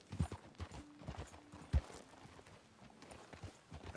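Faint, sparse hoof clops of a horse walking slowly in the video game Red Dead Redemption 2, a few soft knocks against a quiet background.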